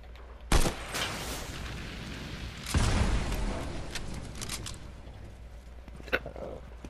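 Fortnite gunfire cracks in sudden loud bursts, a sharp opening shot followed later by a heavier volley that fades into scattered distant pops.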